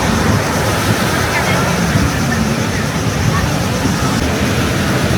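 Surf rolls onto the beach at Tanjung Batu in Bintulu as a loud, steady wash of breaking waves, with gusts of wind buffeting the microphone throughout.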